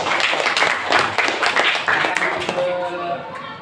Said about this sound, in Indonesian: luar biasa, tepuk tangan untuk Mahes.